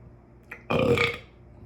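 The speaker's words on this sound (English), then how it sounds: "I burped by making a burp." A single loud, deliberate burp, forced on purpose rather than from gas, rolls out alone for about half a second after a brief faint sound.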